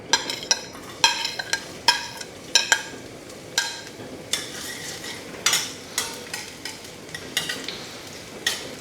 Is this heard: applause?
no